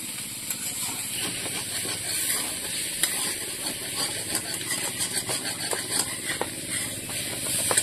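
Bitter gourd fries in a pan with a constant close hiss and sizzle, steady throughout with small crackling pops scattered over it, and no voices.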